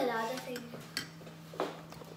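Cold coffee being stirred in a glass, with a few sharp clinks of a spoon against the glass over a steady background hum, while a voice talks at the start.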